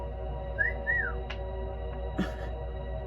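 A person whistles a two-note rising-and-falling wolf whistle, clear and close against a quiet background hum, followed by a couple of faint clicks.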